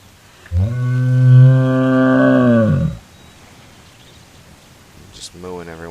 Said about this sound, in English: Just mooing every once in a while to see if somebody moves back.